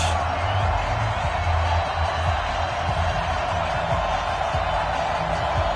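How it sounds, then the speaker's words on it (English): A crowd cheers in an EA Sports Madden football video game ahead of a Ravens–Steelers matchup, a steady, dense, distant roar of stadium noise with low rumbling underneath and no clear voices on top. "This crowd is ready"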